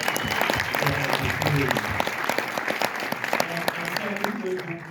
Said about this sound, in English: let's have a round of applause because there's always Aldana